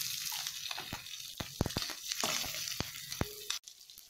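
Mustard seeds, urad dal, chana dal and green chillies frying in hot oil for a tempering: a steady close sizzle with scattered sharp pops and crackles, a brief cut near the end.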